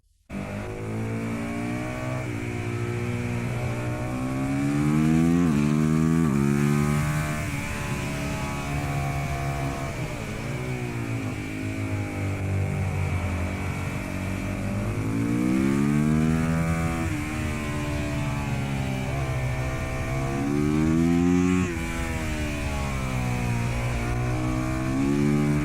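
A motorcycle engine drones continuously, its pitch rising and falling through repeated revs and gear changes as it rides, loud and close to the camera, with no talking.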